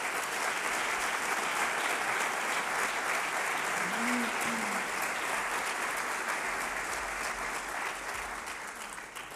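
An audience applauds at a university closing ceremony for a campus anniversary in Gandia, dense sustained clapping from a large hall crowd that stays loud throughout and tapers slightly at the end.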